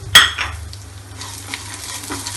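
Chana dal, urad dal, garlic, ginger and red chili being sautéed in oil open with a sharp clang of a spoon on the pan, then settle into a low, faint frying hiss with occasional soft scrapes.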